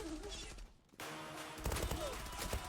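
Rifle fire in the online shooter Zula during a fast team deathmatch on the Çanakkale map: after a brief lull, rapid bursts of close, loud shots crackle over dense game noise.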